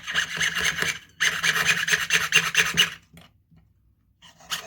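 A saw blade grinds through a metal letter in two rasping, scratchy bursts with a brief gap between, close and fairly loud, then fading to near silence with a faint scrape at the end.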